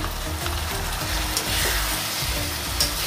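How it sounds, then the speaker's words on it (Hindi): Steady sizzling of bottle gourd roasting in a hot pan, with faint stirring scrapes, continuous and close throughout. "ताकि लौकी भी थोड़ी रोस्ट हो जाए।"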